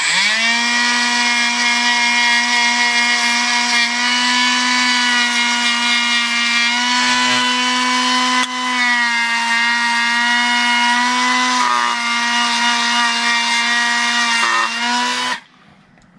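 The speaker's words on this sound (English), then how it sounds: "I'm going to take my Dremel real quick and clean that up. My Dremel has a little wire brush on it." A Dremel rotary tool with a small wire brush scrubs corrosion off a cap on an old barn-find Austin-Healey Sprite, a loud steady high whine running for about fifteen seconds with brief dips before cutting off abruptly.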